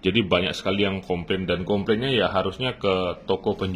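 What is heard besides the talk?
No everyday noises stand out.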